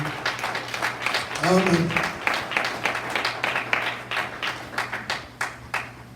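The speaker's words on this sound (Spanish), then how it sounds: "Denle un fuerte aplauso al Señor Jesucristo." A church congregation claps during a Sunday service, with sharp hand claps and cheering that build and then thin into scattered claps, mixed with loud voices calling out.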